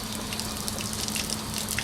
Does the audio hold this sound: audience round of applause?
no